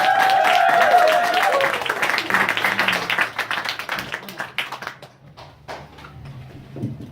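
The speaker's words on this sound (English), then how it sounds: "Give him a round of applause" A reading-event audience applauds reader Daniel Searle, a loud burst of clapping that thins into scattered claps as it dies down, with voices talking over it near the start.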